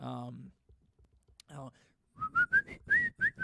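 After a couple of brief spoken words, someone whistles a short, quick tune of rising and falling notes, close and clear.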